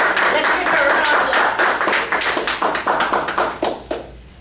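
A crowd claps and applauds loudly, dense at first, then thinning into scattered individual claps before fading out.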